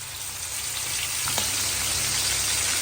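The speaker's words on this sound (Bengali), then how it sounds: "একটু ফ্লেভার বের হওয়া পর্যন্ত একটু ভেজে নেই" Continuous dense sizzling and crackling of onions frying in oil for mutton biryani, steady and fairly loud, with a faint stir or tap partway through.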